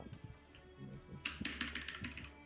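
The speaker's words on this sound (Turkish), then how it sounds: "Duyuyor musunuz? Hayvan gibi basıyor klavyeye." Hard, fast typing on a computer keyboard, the key strikes turning into a dense burst of loud clacks partway through, close to the mic, with no talking.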